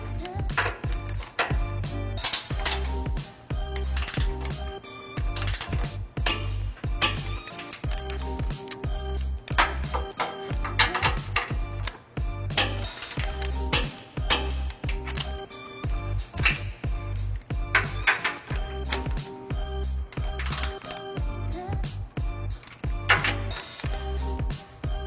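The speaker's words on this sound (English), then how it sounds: "we're ready to tighten and torque all of our bolts according to the manufacturer's specifications" A ratchet with a 22mm socket tightens hitch bolts, making steady rapid clicking in repeated bursts with brief pauses between strokes, close and clear, without talk.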